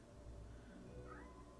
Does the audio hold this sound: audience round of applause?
no